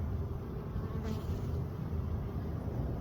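Honey bees at an opened hive make a steady, dense drone of many wings, close and continuous, without any voices.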